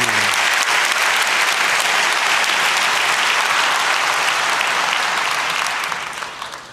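A conference audience gives sustained, dense applause for a speaker at a hacker security talk, loud and steady throughout before thinning out at the end.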